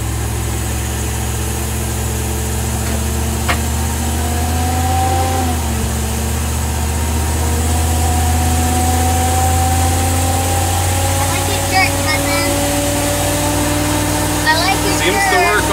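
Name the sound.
454 Chevy engine idling in Monaco motorcoach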